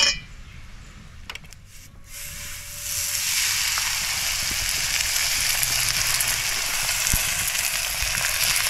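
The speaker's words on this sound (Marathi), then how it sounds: "तवा तापलाय आणि तव्याला आता आपण हे तूप लावून घ्यायचं आहे." Ghee hisses and sizzles on a hot griddle as jowar and coriander thalipeeth is cooked, a steady loud frying crackle that swells after a quieter start and carries on alone.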